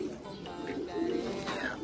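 Pigeons coo softly and steadily while being caught by hand in a home pigeon loft, with low murmuring calls and light rustling close by.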